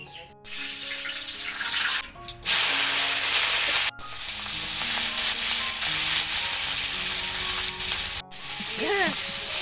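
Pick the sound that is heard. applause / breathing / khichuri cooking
khichuri cooking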